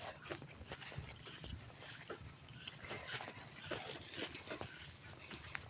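A dog whimpers and whines in short, uneven bursts amid rustling and footsteps outdoors, fairly close and moderately quiet.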